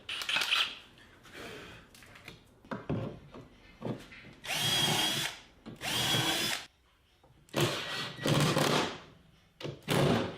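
A power drill drives screws to fit soft-close Euro style hinges onto DIY shaker cabinet doors, using a hinge-alignment jig: repeated close, loud whirring bursts of a second or two, separated by short pauses.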